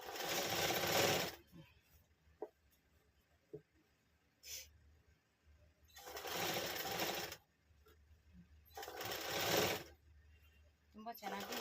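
An electric sewing machine stitches the shoulder seam of a nightie in three loud, whirring runs of a second or more each, separated by quiet pauses with small clicks and handling noises.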